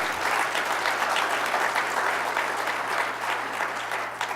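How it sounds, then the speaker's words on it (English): An audience at a county government address in DeKalb County bursts into steady, full applause that stays strong throughout, dense clapping with a faint low hum underneath. "Let's give that a round of applause."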